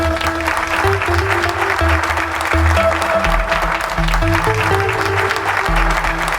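Steady, sustained applause from an audience for musicians fills the space, dense clapping with no break, with a low musical hum underneath.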